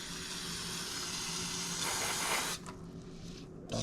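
Cleaner spraying from a spray bottle onto a camper, a steady close hiss that runs for about two and a half seconds and then falls away to quieter spritzes.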